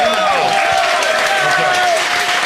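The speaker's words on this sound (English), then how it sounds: "Clap it up for Fresh and Fit." A studio audience on the Fresh & Fit After Hours show at Valuetainment breaks into loud, continuous clapping, mixed with whoops and shouting voices throughout.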